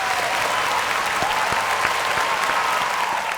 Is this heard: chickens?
no